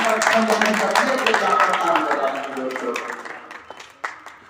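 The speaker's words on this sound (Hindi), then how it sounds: "एक बार मुशायरे के लिए ताली बजा दीजिए" An audience at an Urdu mushaira in Bihar claps in a dense, sustained burst that tapers off, with a voice speaking over it.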